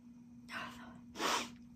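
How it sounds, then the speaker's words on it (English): A person sneezes once, up close and loud, after a sharp audible intake of breath, with a steady low electrical hum underneath. "I have to sneeze."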